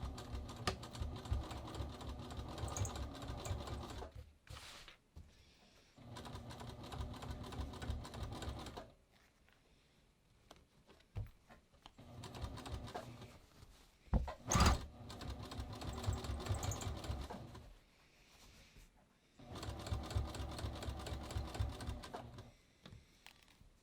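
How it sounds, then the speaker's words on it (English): A sewing machine stitches up twill tape along a front fly zipper in steady whirring runs, several bursts separated by brief pauses, close and clear with no talking. "I'm going to stitch all the way up like this."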